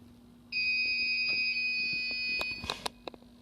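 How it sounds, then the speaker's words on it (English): An electronic buzzer, set off when a hand triggers a sensor, sounds a steady two-tone electronic note for about two seconds, followed by a few short clicks. "It would turn the blue light on and the buzzer would sound at a frequency of"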